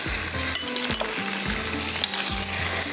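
Loud, steady oil sizzle with stirring scrapes as salted, low-sodium fish pieces go into hot oil with frying cumin for machli pulao, the crackle constant and close throughout.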